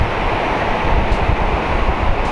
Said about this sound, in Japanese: 波はね、こんな感じで腰ぐらいなんです